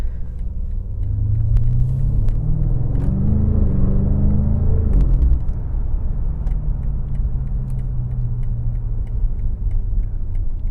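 A BMW F90 M5 Competition pulls away hard with its engine in Sport Plus, a deep rumbling note rising through the revs, pausing briefly at a shift, then droning on steadily, heard from inside the cabin with no talk.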